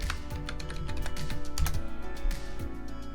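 Someone types a word on a computer keyboard, a quick run of close, crisp key clicks in an uneven rhythm lasting a few seconds, with no talking.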